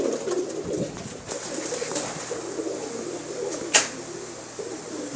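Kasuri, blue-bar and black Cheena pigeons cooing softly nearby, low rolling coos with a brief sharp flutter or click partway through and a faint steady background hum.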